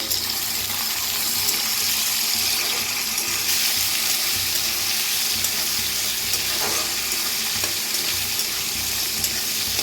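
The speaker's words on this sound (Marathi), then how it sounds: "आता टाकूया कढीपत्ता, भाजून घेऊया" Green chillies and curry leaves crackle and sizzle in hot oil in a pan, a continuous close frying hiss with small pops and no talking.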